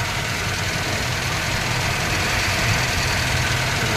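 Maruti Eeco van engine idling with a steady mid-pitched rumble and slight knocking vibration, close and continuous with no talk, after an overheating radiator problem was fixed.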